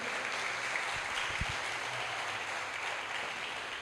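A church congregation applauds during a New Year's Eve vigil service, a dense, even wash of clapping at fairly low level that runs steadily throughout without individual claps standing out.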